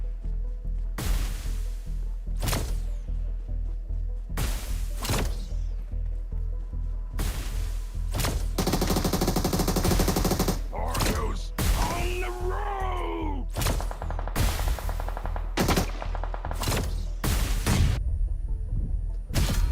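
Honey Badger rifle fire in the mobile battle royale game BGMI, loud sharp shots in short bursts and single reports spaced through the scene, with a dense rapid volley in the middle and some whooshing game effects.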